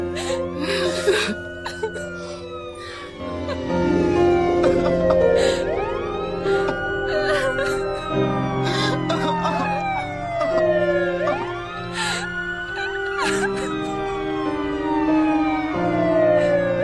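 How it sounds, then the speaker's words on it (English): Police sirens wail throughout a film scene, rising and falling in long sweeping cycles over a steady bed of musical score and background noise, loud and continuous. "We hear sirens, so police are on the way already."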